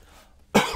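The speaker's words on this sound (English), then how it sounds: "I just choked on that piece of pizza. And the cough, like, spit it forward to my mouth. It's just stuck in there. Had to cough it out." A single sharp cough from someone choking on a piece of pizza, loud and close, bursting out after a near-silent pause.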